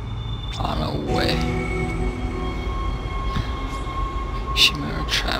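A tram rolling through the Chimera tram system in the game Dead Space, with a low mechanical rumble, rising whines and scattered metallic clanks and squeals, a louder clack near the end, moderately loud and continuous.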